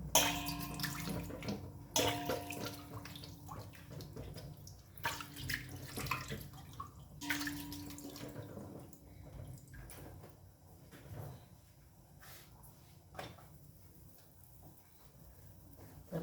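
Water runs from a tap at home, a soft rushing flow with clinks and bumps of vessels and faint dripping, fairly quiet and without speech.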